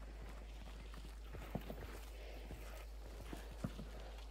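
Horse hooves clip-clop in an uneven rhythm over a low, steady hum in the video game Hunt: Showdown, fairly faint with a few sharper hits standing out.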